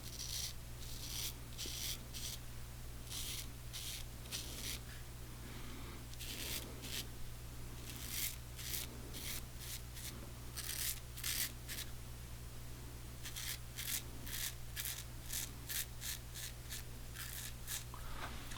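Steady close razor strokes scrape through beard stubble during a one-pass shave of the sideburn and cheek, in short repeated bursts over a constant low hum, with no talking.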